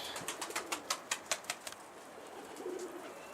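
Pigeons take off in a rapid burst of wing claps, about a dozen sharp flaps in quick succession, followed by soft cooing and quiet ambience.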